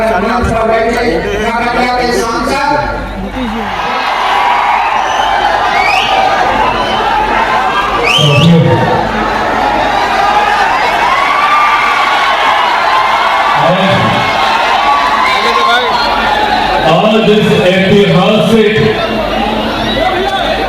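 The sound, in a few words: crowd cheering at a political rally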